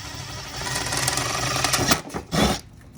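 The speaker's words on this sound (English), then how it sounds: "I drilled out the small hole. We're gonna go slightly larger now." An electric drill bores a slightly larger hole into dealer signage, a loud steady whirring grind for about two seconds, then stopping with a short follow-up burst of drilling.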